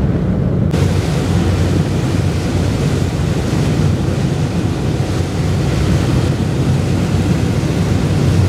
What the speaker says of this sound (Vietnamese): À, sóng lên rồi đó.